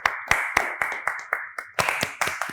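Audience clapping after a speech on a studio talk show, about a dozen sharp, rhythmic claps close by, with a faint steady tone underneath.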